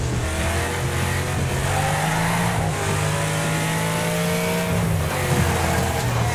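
Race car engines in Wreckfest roar loud and close, holding a high, steady rev with slight rises and falls in pitch as several cars run together, with no talk.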